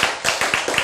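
A short burst of audience applause during a church sermon, a few quick loud claps close together in an indoor hall, with no talking over it.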